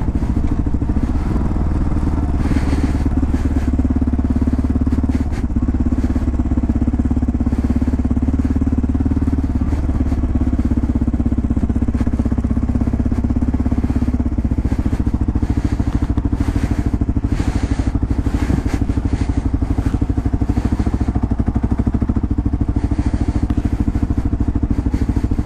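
A large dual sport motorcycle engine runs steadily throughout, a loud continuous low rumble with occasional clattering and thuds, riding out with other dual sport bikes.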